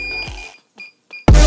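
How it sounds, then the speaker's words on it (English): FPV drone radio controller giving short, high electronic beeps while binding, a few sharp tones close by, followed by a sudden loud burst of noise at the end. "take the controller and hold this button for a few seconds until it starts beeping."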